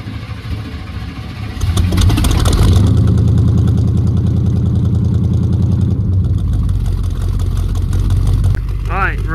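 A GMC 3500 truck engine runs loud and steady from about the second mark onward, holding an even rumbling idle or rev with no speech over it.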